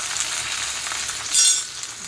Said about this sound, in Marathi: हे बघा चांगलं व्यवस्थित परतले आहे